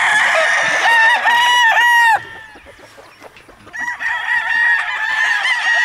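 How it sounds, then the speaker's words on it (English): A rooster crows loudly and close, with a long, strident call, a brief pause, then another harsh crow starting up. "That's a beautiful rooster right there."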